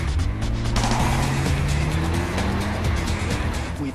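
During a road-test acceleration run, a car engine revs up hard and steadily climbs in pitch, loud and close, with road and wind noise rushing underneath.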